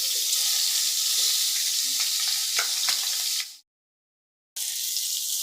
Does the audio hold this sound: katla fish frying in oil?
yes